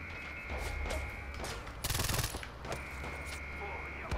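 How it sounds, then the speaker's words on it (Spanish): Gunfire in the video game Far Cry 4, with rapid automatic bursts and scattered single shots over a droning background, one loud dense burst standing out near the middle. "¿Quién me está disparando, tío?"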